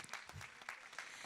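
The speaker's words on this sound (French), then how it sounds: "on peut applaudir l'UFSBD" A short burst of audience clapping at an oral-health education presentation, faint and somewhat distant, with irregular hand claps over a low room background.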